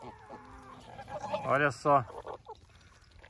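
Geese on a farm give a pair of loud, harsh honks close by, with a quieter call just after, while a person speaks briefly at the start.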